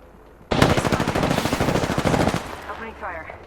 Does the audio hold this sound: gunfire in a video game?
yes